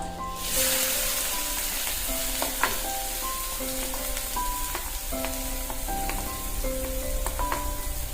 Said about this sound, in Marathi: आता आपण लसूण टाकून घेऊया